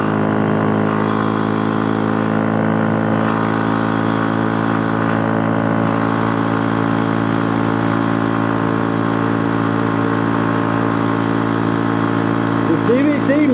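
A street-legal mini bike with a CNC ported head and forged rod runs at cruising speed, its engine droning steadily and close by for the whole stretch, with a slight rise in pitch near the end.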